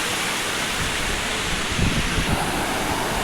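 Waterfall in a forested hill area, heard from above the falls as a loud, continuous roar of rushing water mixed with wind buffeting, steady throughout with no voices.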